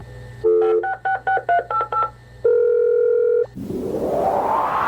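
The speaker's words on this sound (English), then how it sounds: "have your home computer store phone numbers and even dial the phone for you" A home computer dials a telephone: about eight rapid DTMF tone beeps in quick sequence, then a long steady tone, followed by a rising hiss of line noise.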